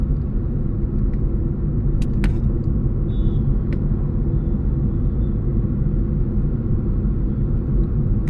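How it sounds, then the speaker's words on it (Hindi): Car driving on Delhi roads near Connaught Place: steady loud low engine and road rumble from inside the vehicle, with a few faint clicks and a brief high tone over it. "दिल्ली के सड़कों पे गाड़ी दौड़ाना है, बस चलते रहना है।"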